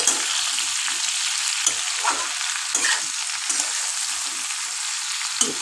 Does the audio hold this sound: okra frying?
yes